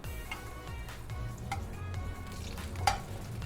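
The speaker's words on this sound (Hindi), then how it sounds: "यहाँ पे डालेंगे अपना देसी घी।" Desi ghee sizzles and crackles steadily in a hot wok for a chole tempering, a close, continuous frying hiss with a few sharper pops.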